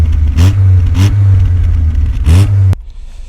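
An Alfa Romeo 1750 GTV sports car engine from the 1960s revs sharply three times over a low idle, loud and close, then cuts off abruptly.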